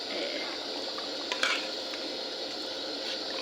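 Chicken for biryani fries in a pot with a soft, even sizzle, heard faintly from a short distance with one brief stir or clink partway through.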